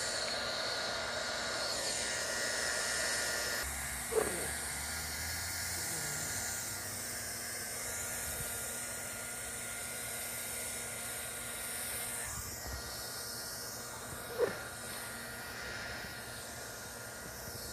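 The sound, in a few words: heat welding thermoplastic membrane seam with hot air welder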